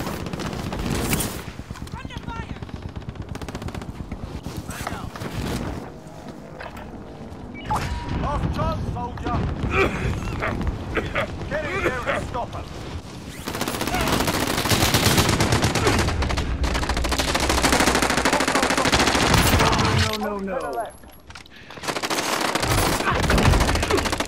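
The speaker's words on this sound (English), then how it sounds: "They're still fucking shooting up top." Rapid bursts of gunfire from enemies shooting down from a rooftop in an online multiplayer shooter, loud and sustained through most of the stretch, with brief lulls. Players talk over the shooting.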